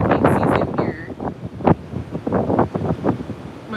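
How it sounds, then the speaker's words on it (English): Strong hurricane-season wind buffets the microphone at a beachfront, a loud continuous roar with gusts and surf-like rumble throughout. "It's so windy, right?"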